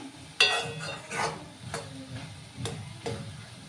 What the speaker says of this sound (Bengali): দেখো বন্ধুরা, আমি আবার নাড়াচাড়া করে দিলাম